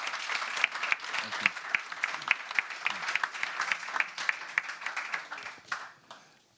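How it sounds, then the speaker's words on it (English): An audience gives a short round of applause at a healthcare technology talk, sharp individual claps rising out of the crowd at a steady pace, then thinning and fading out near the end. "Maybe a quick applause"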